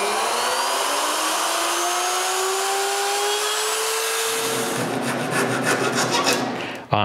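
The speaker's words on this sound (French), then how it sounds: "Ensuite, je change mon setup sur ma mortaiseuse et avec un bout de bois coupé à même angle que les bouts, je perce d'autres mortaises." A mortising machine bores mortises in walnut and oak lamp parts. A steady whine rises gradually in pitch, then gives way to gritty, grinding cutting noise near the end, with a sharp knock at the close.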